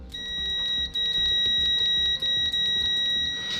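An ANENG M118A budget multimeter sounding its continuity beep, a loud, steady high-pitched tone held close and continuous for several seconds, with soft clicks and handling noise beneath.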